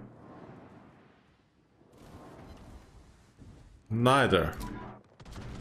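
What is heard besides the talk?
warship gunfire in World of Warships video game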